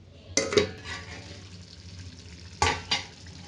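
Potato pieces coated in masala and salt fry in a pan, a soft continuous sizzle broken by two sharp scraping stirs of the spoon.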